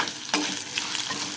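Garlic sizzles in hot oil for a lemon rice tempering, with a steady frying hiss throughout and a sharp stirring scrape near the start.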